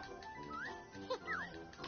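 Short cartoonish pig oinks from Yooka-Laylee, a 3D platformer game, come as a few squeaky grunts, quiet and brief, mixed among soft game sounds.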